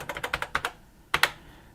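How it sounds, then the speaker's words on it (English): Typing on an old computer keyboard with mushy keys, a quick run of distinct close keystrokes followed by a pause and then two louder clacks. "It's a little mushy, like a lot of old keyboards were, but yeah, the space bar."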